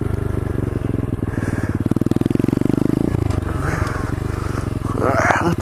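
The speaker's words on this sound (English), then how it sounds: "Alright, I just fucking did a burnout." Pit bike doing a burnout on sand, its small engine revving loud and close in a rapid buzzing drone with a scrabbling, gritty edge as the rear wheel spins, then easing off.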